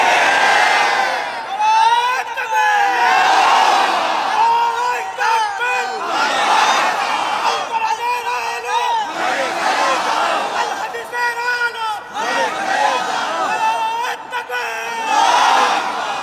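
A large crowd at a religious gathering chants slogans in loud, repeated roaring bursts that rise and fall in waves, filling the space with massed voices throughout.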